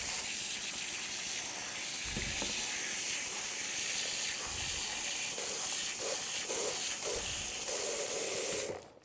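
Canned beans being rinsed in a colander under a running tap, a steady hiss of water spraying and splashing throughout with a few low thumps and clatters along the way, no talking.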